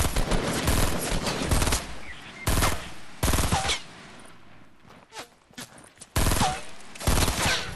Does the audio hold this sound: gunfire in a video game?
yes